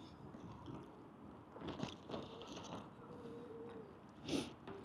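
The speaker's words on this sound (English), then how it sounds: "I don't want to hear me munching." Quiet, close chewing and crunching of food in East London, with soft bites and scrapes scattered over a low room hiss and one sharper crunch near the end.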